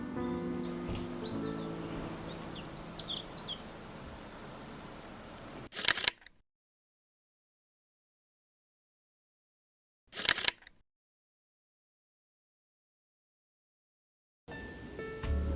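Two crisp single-lens reflex camera shutter clicks, spaced a few seconds apart, taken while photographing camellias on a rainy day at a temple, following soft ambient rain and birdsong that then drops to silence.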